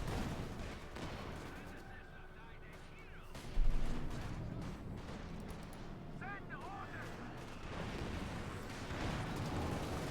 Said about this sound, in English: Targeting that into H with the field gun